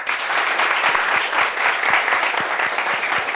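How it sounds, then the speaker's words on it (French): Studio audience applause, a dense, steady clapping from a crowd filling the whole stretch at moderate loudness. "Applaudissez pour Awa"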